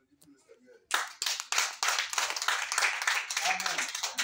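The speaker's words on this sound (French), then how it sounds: "Applaudissez le Seigneur." Church congregation clapping hands together, a dense, loud burst of many hands that starts sharply after a brief quiet moment and keeps going steadily, with voices faintly mixed in.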